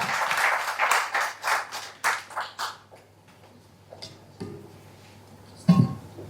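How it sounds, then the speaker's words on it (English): Audience applause after a speech at a workshop on Nigeria's rebased GDP and CPI, rhythmic group clapping in pulses that fades out after a few seconds, followed by scattered taps and a brief knock. "Please, another round of applause for Professor Aliyu Rafin Dadi."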